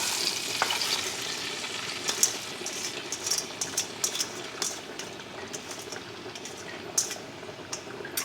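Chopped cabbage, bell pepper and onion hit a hot skillet, giving a dense steady sizzle with scattered crackles and pops and occasional stirring clatter, close and loud with no talk.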